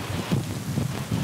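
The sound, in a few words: strong wind in a storm at a campsite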